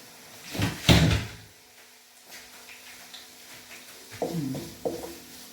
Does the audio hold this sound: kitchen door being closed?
yes